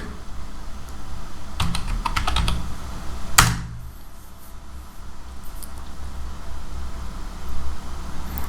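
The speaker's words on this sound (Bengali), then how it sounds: "এখন আমরা এখানে কিছু লিখি, র্যান্ড লিখে ওকে কিছু টেক্সট নিলাম" Keys clatter in a quick burst of typing on a computer keyboard while text is entered into MS Word, followed by a single sharper keystroke, then quiet room hum.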